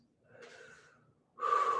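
Breathing during an airplane yoga pose, one soft drawn breath followed after a pause by a louder, sustained rough exhale close to the mic, no talking.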